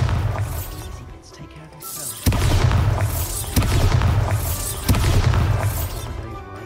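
Bombarda spell explosions in the Hogwarts Legacy video game, three loud, sharp blasts a couple of seconds apart, each followed by crackling debris and rumble.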